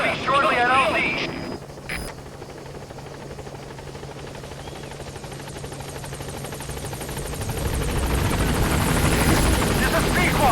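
Helicopter arriving at a landing zone in the video game Metal Gear Solid V, a steady rotor drone that dips and then swells louder toward the end, with a voice talking early on.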